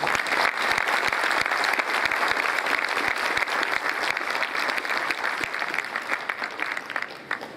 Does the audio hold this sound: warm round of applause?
yes